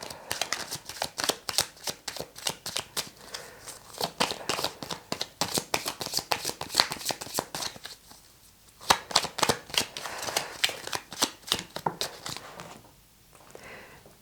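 Tarot cards being shuffled in a close, crisp run of rapid riffling flutters that comes in bursts with a couple of short pauses, and no voices.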